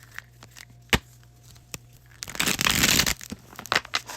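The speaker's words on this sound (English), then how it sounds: "I'm now shuffling the tarot." Tarot cards being shuffled by hand: a dense papery riffle of about a second swells up midway, with scattered soft clicks and taps of the deck before and after, close and fairly quiet with no talking.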